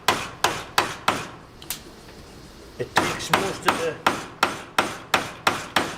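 Sharp mallet strikes on a chisel tidying out a pre-drilled wood mortise, a steady run of evenly spaced knocks with a brief pause midway, a few quiet words spoken between blows.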